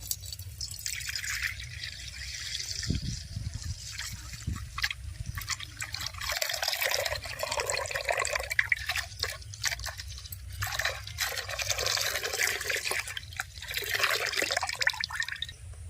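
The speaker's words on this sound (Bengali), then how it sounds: "দুধের প্যাকেটগুলো কেটে নিয়েছি এবার কড়ার মধ্যে ঢেলে নেবো" Milk poured from cut packets into a kadai makes a steady, close liquid splash and trickle that runs for the whole stretch. The sound swells and fades in waves over a low background hum, and no voices are heard.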